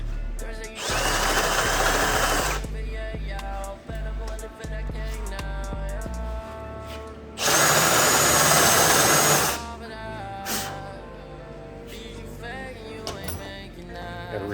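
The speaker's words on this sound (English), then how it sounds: "Using drill bits like this that aren't in a drill press always sucks." Hand drilling with a drill bit held outside a drill press, during a two-stroke race go-kart build: two loud, sustained whining bursts of a power drill, separated by quieter stretches of clinking and rattling workshop sounds.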